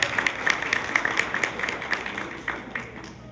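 A church congregation claps in praise during a sermon, with sharp rhythmic claps standing out over a full room of crowd noise and fading slightly toward the end.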